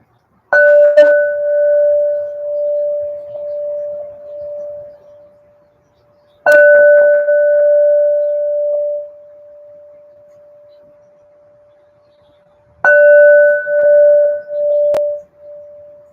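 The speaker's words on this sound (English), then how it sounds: "You'll hear 3 rings of the bell." A resonant bell rings three times, each strike clear and ringing out for several seconds before fading, spaced about six seconds apart in an otherwise quiet, calm setting.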